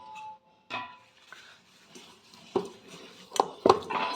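A metal lid lifted off a cooking pot of rested, kneaded wheat dough in a home kitchen, giving a few sharp clinks and clatters near the end after a quiet stretch with faint handling noises.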